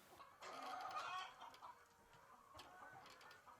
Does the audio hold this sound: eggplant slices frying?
no